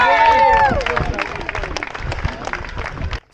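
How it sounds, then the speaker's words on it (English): Crowd of spectators cheering and clapping for passing runners at the Hastings half marathon, a loud burst of voices and applause up close over the runners' footsteps, fading slightly as it carries on. "Some well-needed cheer from the brilliant spectators out in Hastings."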